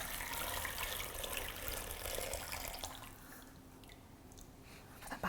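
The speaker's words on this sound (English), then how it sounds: "So I'm just going to pour it into a sieve." Chicken stock for gravy is poured through a sieve, giving a steady broadband liquid splashing and trickling that runs continuously, eases off slightly toward the end and finishes with a brief louder clatter.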